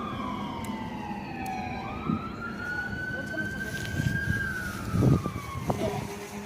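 Fire truck siren wailing and sliding in pitch through a neighborhood on a Fourth of July night, moderately distant, with scattered firework pops and people talking nearby.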